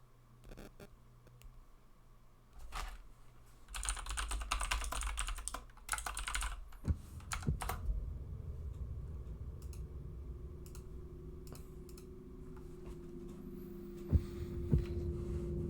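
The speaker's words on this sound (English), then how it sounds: "Which I intentionally got a clicky loud keyboard because I like those," Loud clicky mechanical computer keyboard typed on during a Tears of the Kingdom game session, with bursts of rapid clacking keystrokes up close over a steady low hum and game sound, and no talking.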